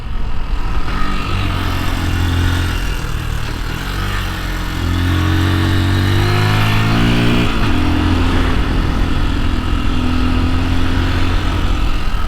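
A motorcycle ridden on the Ha Giang Loop in Vietnam, its engine droning loud and steady with rising and falling revs as it accelerates, plus wind rush and no talking.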